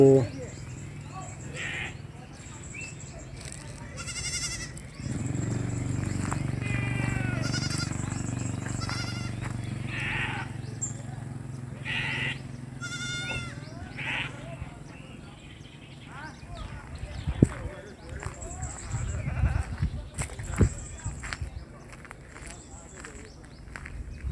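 Young goats raised on a farm bleat repeatedly in short wavering calls, some near and some farther off, over a steady background rumble with footsteps and rustling.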